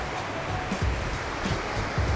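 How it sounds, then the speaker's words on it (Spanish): A swollen creek on the road toward the Sierra de Choix in Sinaloa rushes with steady broadband roar, a continuous close wash of water without pause or voices. "Vamos a ver que el arroyo está crecido."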